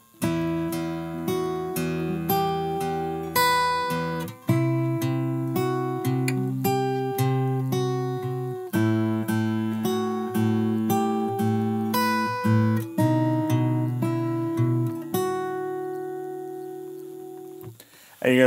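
Fingerpicked acoustic guitar playing the opening bars of a song, with steady plucked bass notes and ringing arpeggiated chords, close and clear, alone for about eighteen seconds.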